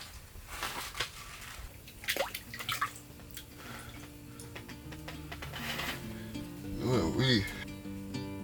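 A fish caught on a jaw jacker rig baited with smelt is eased back into the water during an overnight February fishing trip, with scattered drips and small splashes that grow busier toward the end.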